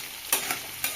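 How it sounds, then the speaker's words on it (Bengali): Cut potatoes dropped into hot oil for a chana dal and egg dish give a steady soft sizzle, with three brief louder bursts as pieces land and are stirred. "কেটে রাখা আলু দিয়ে দেবো।"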